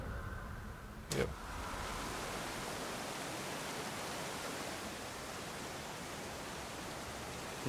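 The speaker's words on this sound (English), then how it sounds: "Nice waterfall." A waterfall in the God of War video game gives a steady, even wash of rushing water at moderate level, broken once by a short sharp sound early on, with no talking.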